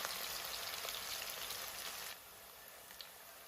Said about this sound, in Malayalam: ഇവയുടെയൊക്കെ പച്ചമണം പോകുന്നത് വരെ എണ്ണയിൽ നന്നായി വഴറ്റിയെടുക്കുക.